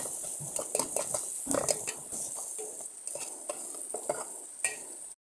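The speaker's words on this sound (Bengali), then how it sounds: "তেল গরম করে পেঁয়াজ রসুন কুচি দিয়ে দিলাম, সাথে লবণ হলুদ দিয়ে দেবো।" Chopped onion and garlic fry in hot oil, with salt and turmeric added: a fairly quiet, steady sizzle carries on throughout, broken by frequent scraping and clinking as a utensil stirs the pan.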